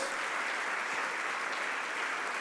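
A church congregation applauding, dense steady clapping from many hands filling the room, continuous and fairly loud with no gaps.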